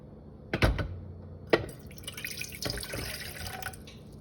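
Water splashes and trickles into a rice cooker pot in a few short pours and drips, close and fairly quiet, with no talking.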